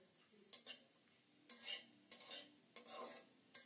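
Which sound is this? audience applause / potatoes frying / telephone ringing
potatoes frying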